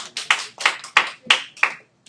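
Sparse, weak applause from a small math classroom, only a handful of distinct, loud, close claps spaced unevenly and then stopping, with no talk over them.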